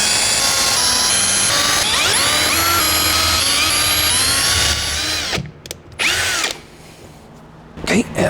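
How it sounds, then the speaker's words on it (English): A power drill whines loudly and steadily while boring screw holes in a barn wood toy chest lid, pitch sliding as the bit bites, then stopping into short bursts and near quiet. "Drill my holes."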